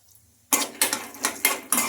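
Peanuts dropped into hot oil in a kadai, with a loud metallic clatter and scrape of the pan starting abruptly, followed by four more evenly spaced clinking stirs close by.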